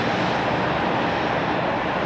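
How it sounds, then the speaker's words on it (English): A tractor rolls along a cycling path near Amsterdam Schiphol Airport, giving a steady, broad rumbling drone that stays fairly loud and even throughout, with no voices. "It is once again a tractor pulling by along the cycling path behind me."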